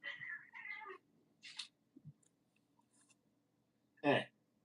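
Cats fighting indoors let out a few scattered meows and yowls with quiet gaps between, ending in one loud strained cry.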